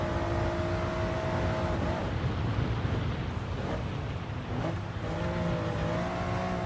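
A Toyota GR Yaris engine in Gran Turismo Sport, a continuous loud rasping drone that holds a steady pitch, dips briefly as if shifting gear, then climbs again, with no talking.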